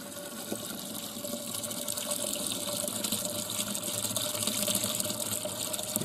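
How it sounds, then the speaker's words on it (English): Apple juice pours into a big plastic fermenting barrel for cider, a steady, continuous liquid gush that holds for several seconds without any talking. "Just going to pour the juice in."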